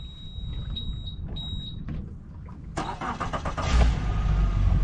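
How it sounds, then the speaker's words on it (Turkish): A fishing boat motor on the Black Sea starts up after a few faint beeps, catching with a sudden loud burst and settling into a rising, rough engine rumble close by, with no talk heard. "Motorumuzu çalıştıralım."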